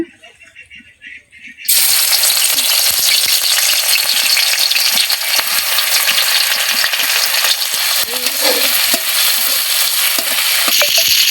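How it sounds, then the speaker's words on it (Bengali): Onion and garlic dropped into hot oil in a wok, a sudden loud sizzle that bursts in after a quiet moment and keeps crackling steadily, with occasional rattling stirs, close up. "এখন আমরা কড়াইতে তেল দিয়ে দিছি এখন দিয়ে দিব পেঁয়াজ রসুন"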